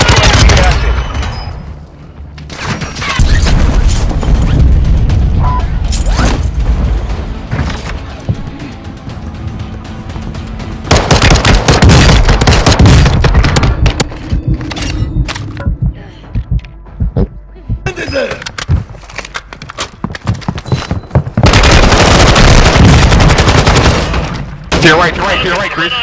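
Gunfire in a video game battle: heavy bursts of shooting and booming impacts come in loud waves with quieter gaps between them, while voices speak in the clip.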